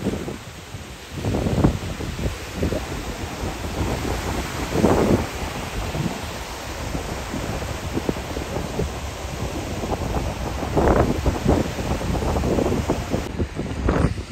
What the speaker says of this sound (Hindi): बहुत ही ज़्यादा तेज़ हवा चल रही है भाई बहुत ही तेज़